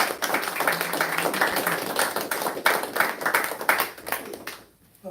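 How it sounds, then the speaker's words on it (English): A temple congregation applauds its ministers with sustained, dense clapping from many hands, then it cuts off abruptly near the end. "Just give our beloved ministers another round of applause, please."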